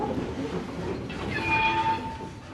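Steam train hauled by a steam locomotive rumbling along the rails, with a steady low roar and a sustained tonal whistle or horn rising over it midway, fairly close and without speech.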